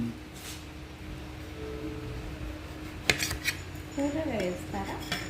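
A ripe tamarillo is cut with a knife, the blade clicking and scraping against a plate or board in a few sharp bursts, with faint talk in the background.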